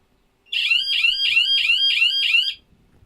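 An airsoft game timer's siren wails loudly in six rapid rising-falling cycles for about two seconds, close by, then cuts off to near silence.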